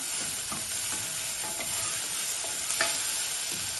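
Garlic sizzles in a hot pan with onions while a utensil stirs, producing a constant bright frying hiss broken by soft periodic scraping taps.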